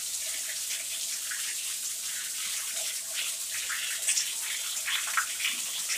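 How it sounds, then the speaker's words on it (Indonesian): Water runs steadily from a rusty household water pipe, a constant hiss of flow with small splashy variations, fairly close and alone with no talking. "Pertama tu kita biarkan dia keluar air dulu."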